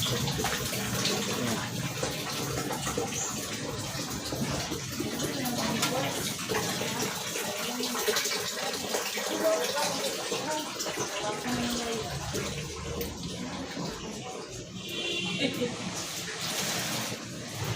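Water runs from a kitchen tap after Typhoon Odette in a continuous gushing stream, close and fairly loud, with a person talking over it at times.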